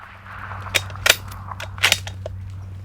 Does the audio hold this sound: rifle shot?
yes